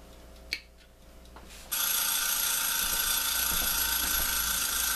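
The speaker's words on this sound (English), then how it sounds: "Well, you know what that bell means." After a faint click and a short quiet stretch, a kitchen timer bell starts ringing loudly and continuously, a steady bright metallic ring that keeps going.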